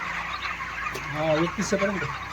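Broiler chickens about a month old cluck and murmur in a crowded poultry shed, a steady bed of soft bird chatter with a few clearer nearby clucks rising in the second half.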